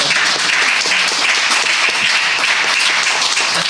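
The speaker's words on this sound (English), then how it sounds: "Give her a round of applause." Dense, loud audience applause at a political party's State of the Nation event, a continuous wash of many hands clapping at once, close and unbroken for the whole stretch.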